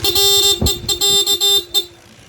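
A Honda ADV160 scooter's horn sounds in several loud, close, harmonic blasts of uneven length, with short gaps between them and a brief fading tail.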